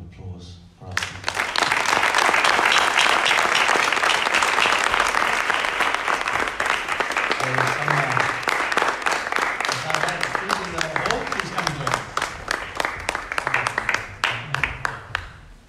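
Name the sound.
audience applause for speakers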